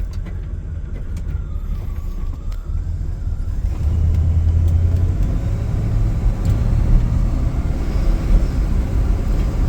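A 1970 Oldsmobile Cutlass Supreme V8 engine rumbles steadily at idle, a deep low throb that swells slightly louder partway through and holds there.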